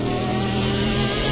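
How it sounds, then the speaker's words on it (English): A Bentley GT3 race car in Project CARS gives off a steady, droning engine buzz at sustained revs, loud and close with no talking over it. "That's HFO's Bentley you can hear."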